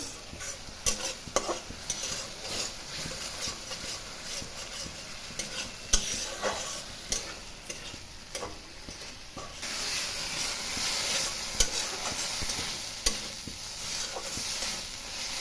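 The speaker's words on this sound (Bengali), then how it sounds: "এবার একটু জল দিলাম, গরম জল। ভালো করে মশলাটাকে কষিয়ে নেব।" Spice paste for jackfruit curry stir-fried in a pan with hot water added, giving a steady hiss and sizzle with frequent scraping stirs and clinks throughout, close and fairly quiet.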